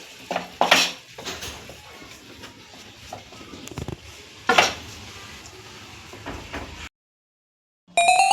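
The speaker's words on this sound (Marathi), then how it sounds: "बेसन आणि तुपाचा हे पहा त्या रीतीने आपण ते व्यवस्थित मिक्स करून भाजून घेणार आहोत" Besan flour stirred and roasted in ghee in a pan for ladoos, with a spoon scraping and clinking against the pan in bursts, two sharper knocks standing out, a quiet low sizzle underneath, then a short silence.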